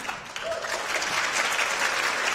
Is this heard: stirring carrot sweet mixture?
no